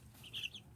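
Chickens on a backyard flock, with ducks kept nearby, give a single brief, soft cluck or two over quiet background hiss.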